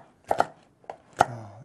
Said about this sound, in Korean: 고추마저 썰어주세요